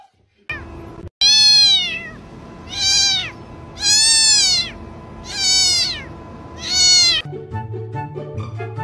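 A cat meowing loudly up close, five long, drawn-out wailing meows in a slow, regular series, with a few brief noises before and after.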